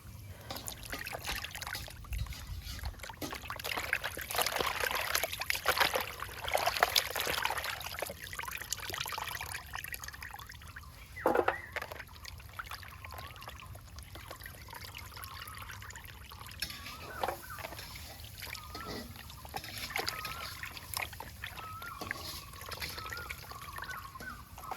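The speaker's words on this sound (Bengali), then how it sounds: "বাটা মাছগুলো এখন ভালো করে ধুয়ে নিব।" Water trickling and splashing while bata fish are washed by hand, an uneven run of pours, drips and sloshes with occasional louder splashes, heard close and alone throughout.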